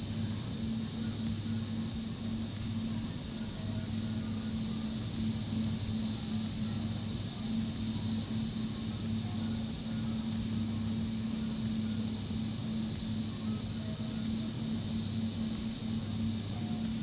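A steady, continuous jet engine drone from an MD-88 airliner in Microsoft Flight Simulator, with an even whine and low rumble held unchanged throughout, no talk over it.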